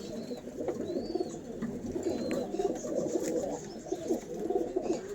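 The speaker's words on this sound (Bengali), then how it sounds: "পায়রা" A close chorus of pigeons from a home breeding stock coos without pause, low throaty phrases overlapping in an even rhythm, with occasional light chirps above.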